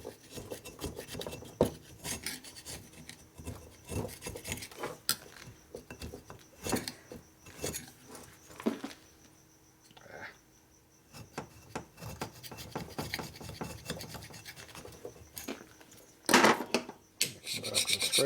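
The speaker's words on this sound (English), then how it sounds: "Back with a scraper." A hand scraper rasps over a Harley-Davidson S&S 113ci Evolution engine part, taking it down to bare metal. Close, uneven scraping strokes come in irregular bursts, with a brief lull in the middle.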